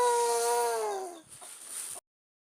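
A single drawn-out cluck from a native village chicken, falling in pitch, followed by a few soft scratchy noises before it cuts off.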